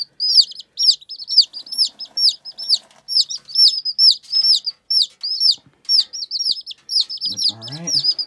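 Newly hatched baby chicks chirp continuously in a quick, high, repetitive pattern, loud and close, with a brief voice entering near the end.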